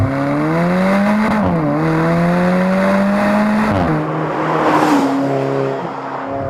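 An Alfa Romeo's 1.7 liter direct-injected single-scroll turbo engine accelerates loudly and close, revs climbing steadily through several gear changes with a brief dip between shifts.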